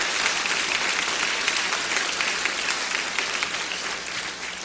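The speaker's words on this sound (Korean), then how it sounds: "또 귀한 말씀 전해주신 목사님께 다시 한번 뜨거운 박수를" A congregation at Suwon Central Baptist Church applauds warmly during an evening mission-conference service. The dense, even clapping fills the room without a break and fades slightly toward the end.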